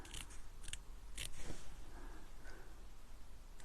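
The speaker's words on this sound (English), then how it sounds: "just have to do my best to not snip off anything crucial" Scissors snip around a stamped image on patterned paper, a few crisp close cuts early on followed by quieter paper rustling, with no voices.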